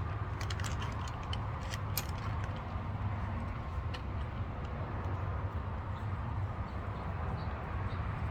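A hand ratchet loosens a bolt on a Delta pressure washer, producing quiet clicking, pawl-ticking bursts near the start over low background hum, with no talking.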